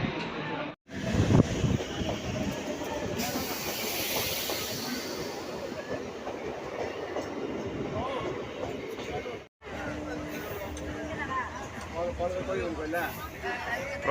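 A train pulls into a crowded railway station platform in Puri, its heavy rumble running steadily under wind buffeting the microphone, with people talking nearby throughout.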